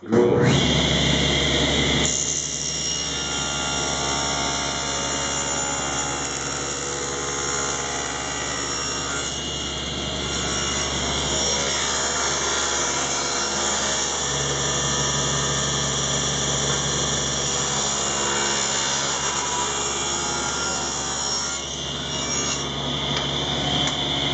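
Steady, loud router cutting an angled control cavity into a wooden Les Paul guitar body, a continuous high whine with grinding rasp lasting throughout without pause.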